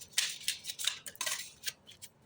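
Quick crisp riffles and slaps of a deck of oracle cards being shuffled by hand, a rapid irregular run of close papery flutters with no voices.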